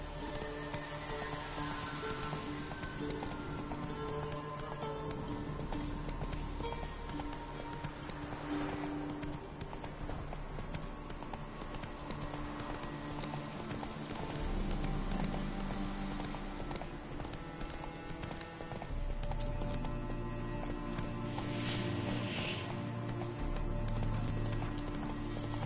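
Roach the horse gallops in The Witcher 3: Wild Hunt, a steady clip-clop of hooves running continuously over layered game ambience and music, with no voices.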